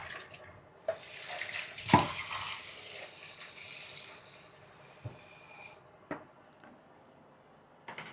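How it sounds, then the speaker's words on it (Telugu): Running tap water splashes over leafy vegetables being washed in a sink, a steady close wash with a few louder splashes and clatters. "లీఫీ వెజిటబుల్స్ ఎన్నిసార్లు వాష్ చేస్తే అంత మంచిది"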